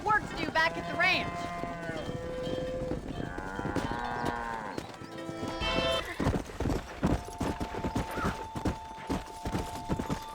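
A cattle herd in the video game Red Dead Redemption gives repeated lowing moos over steady clip-clopping hooves and ranch sounds throughout, fairly loud and continuous, with other game sounds mixed in.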